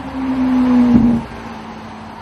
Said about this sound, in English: Everyone hears that engine bellowing from a distance and they turn around for a double take.